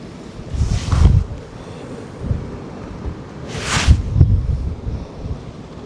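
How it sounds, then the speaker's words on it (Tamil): Strong wind blows outdoors, roaring in gusty bursts against the microphone with two sharper rushing swells amid a constant rumbling buffet. "காற்று ரொம்ப அடிக்குது"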